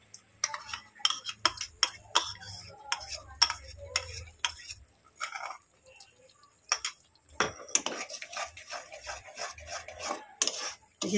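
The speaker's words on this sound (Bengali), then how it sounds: "আবারও মশলাটাকে কষিয়ে নেব ভালো করে।" Spice paste with cumin and coriander powders being stirred and sautéed in a pan for a cauliflower rezala, heard as close, irregular scraping and clinking strokes of a spoon against the pan, with no voice over them.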